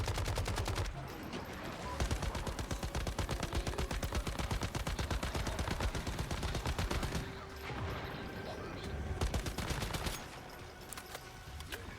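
A light machine gun firing in the shooter game Once Human, long sustained bursts of fast, evenly spaced shots with brief pauses between strings, loud and close.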